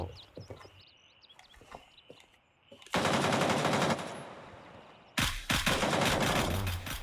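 Bursts of automatic gunfire in the shooter game Gray Zone Warfare, two long dense volleys after a quieter stretch with scattered sounds, loud and close.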